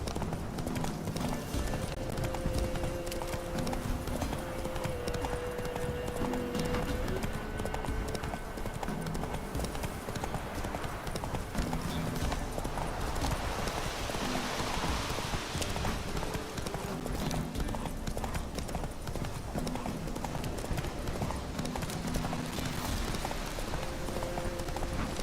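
Roach the horse's hooves clip-clop steadily through the whole stretch in The Witcher 3, a continuous trotting rhythm layered over game music and ambient noise.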